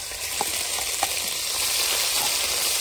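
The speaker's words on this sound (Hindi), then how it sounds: "खड़े मसालों को थोड़ी देर के लिए फ्राई करेंगे और साथ ही हम इसमें डाल लेंगे चॉप किया प्याज।" Whole spices with chopped onion frying in hot oil in a pot for a kabab handi, a steady close sizzle with a few light clicks of stirring.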